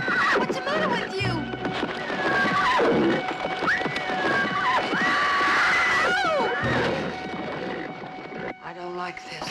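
Repeated shrill horse whinnies rising and falling over a commotion of raised voices and movement, loud and close.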